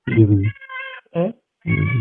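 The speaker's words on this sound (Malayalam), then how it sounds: "പൂച്ചയാ" A cat meows three times up close, with short pauses between the drawn-out, tonal cries.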